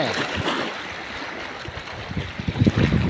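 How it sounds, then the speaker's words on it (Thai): Storm wind and water at the Nam Theun 2 reservoir in Nakai: loud, continuous roaring wind buffets the scene over churning, lapping water, with heavier gusts and splashing surging near the end. "อ่างน้ำเทิน2มาให้เบิ่งเรื่องพายุเรื่องลมนี่"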